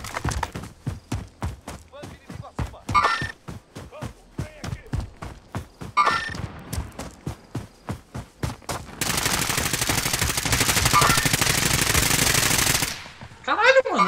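Rapid bursts of gunfire from the video game Zombie Royale, sharp repeated shots in quick rhythm, then a dense sustained volley near the end, loud and close with a player talking over it.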